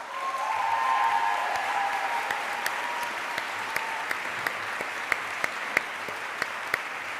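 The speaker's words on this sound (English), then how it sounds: "So I propose we give all of those people a round of applause." Audience applause at a graduation ceremony for a European master's programme in human rights and democratisation, a dense burst of clapping that swells then gradually thins out, leaving scattered individual claps near the end.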